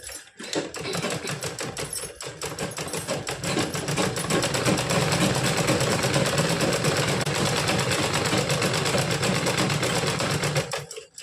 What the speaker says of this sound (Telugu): ఫస్ట్ ఈ విధంగా కొంచెం ఫోల్డింగ్ చేసుకుని కుట్టనేది కుడదాము